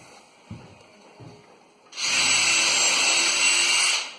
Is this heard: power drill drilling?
yes